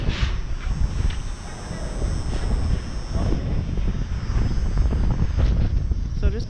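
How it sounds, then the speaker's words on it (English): Rough, low-pitched wind buffeting the microphone on Yonge Street, steady and loud throughout, with faint voices mixed in underneath. "So it is pretty windy."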